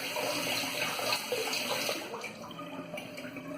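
Water runs steadily from a tap, close and moderately loud, as an alum block is wetted under the stream at a bathroom sink for aftershave, with no talk.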